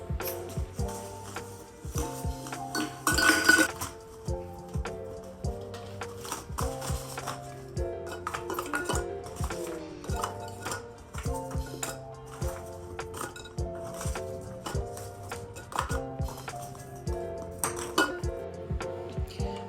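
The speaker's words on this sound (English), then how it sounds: "take my pastel eggs and start filling up this area between the fishbowl vase and the inner vase" Pastel egg ornaments dropped one after another into a glass fishbowl vase around an inner vase, a steady run of close, bright clinks and clicks with no talking.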